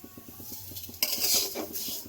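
Dry rice being roasted and stirred in a pan for a Bengali rice sandesh, with soft rhythmic scraping and light clinks of a utensil against metal, followed by a brighter rattling scrape.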